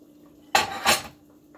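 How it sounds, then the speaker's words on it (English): Carrots drop into a pot of stewed meat with two quick clattering knocks against the metal, close and brief in an otherwise quiet kitchen. "Let's add the carrots in."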